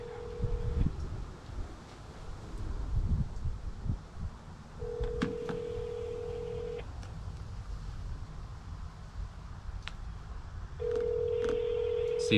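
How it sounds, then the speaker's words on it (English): A phone call to a burger restaurant: short dialing tones, then repeated ringback tones spaced a few seconds apart over outdoor background noise, with no talk. "we're going to make the phone call now."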